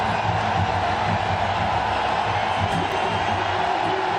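Huge cricket stadium crowd roaring after a winning hit in an India Asia Cup match, a dense, steady wall of cheering and noise filling the whole moment.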